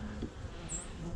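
Honeybees hum in an open hive, a close, steady, low buzz with no break.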